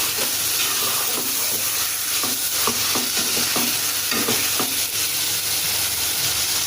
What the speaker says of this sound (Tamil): இப்போ நல்லா இதை வதக்கிடலாம்.